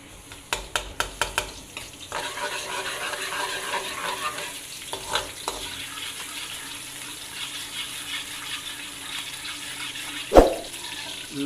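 Chicken fries in gravy with chopped garlic, sizzling steadily while a few sharp taps of a spoon against the pot come at the start and a single louder clank comes near the end.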